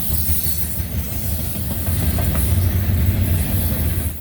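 A CSX freight train passes close by, a heavy continuous rumble with rhythmic clickety-clack of wheels and a hissing edge, loud and without voices.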